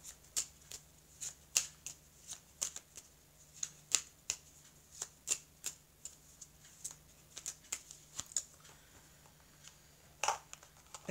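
Oracle cards shuffled close up in a quiet room, a steady run of crisp riffling snaps and taps repeating for several seconds.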